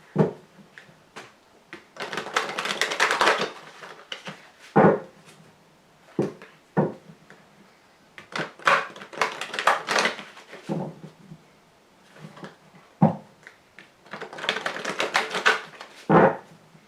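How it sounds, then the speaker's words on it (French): Lenormand fortune-telling cards shuffled and drawn in bursts of papery riffling and sharp slaps on a table, close and fairly loud, separated by short quiet gaps. "je vais ici tirer 5 cartes"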